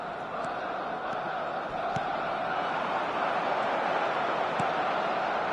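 Football crowd at a match cheering in a steady, dense roar throughout, loud and continuous with a few faint sharper bursts rising out of the mass of voices.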